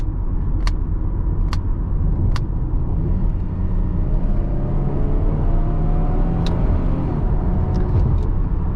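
From inside the cabin, a 2011–2013 Chevrolet Camaro 1LT V6 with an automatic transmission in manual mode rumbles steadily as it accelerates, its engine note gradually rising, with a few short clicks partway through.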